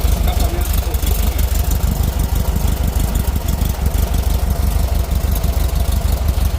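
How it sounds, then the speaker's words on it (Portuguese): A tuned air-cooled Volkswagen Fusca (Beetle) engine idles with a fresh exhaust, a loud, close, steady low rumble with a rapid lumpy pulse and mechanical clatter, continuing unbroken from start to finish. "motorzinho novo. Arrumado. Escapamento fofinho."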